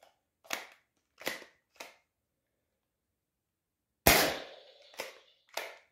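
A modded Nerf blaster fires repeatedly, making sharp, snappy pops spaced out over a few seconds, with one louder, harsher crack standing out among the quieter shots.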